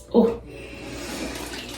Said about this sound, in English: Next, I'm gonna go with this Bolero Hydrating Facial Mist.